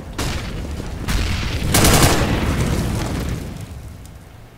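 A flashbang grenade going off in CS:GO, a sudden loud burst followed by a washing ringing roar that slowly fades over several seconds, with no speech.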